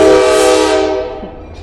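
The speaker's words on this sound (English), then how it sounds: "I heard the story about beeping horns on the train." A train horn sounds one long, loud, steady blast, its rich harmonic tone holding strong and then fading out near the end, with nothing else heard alongside it.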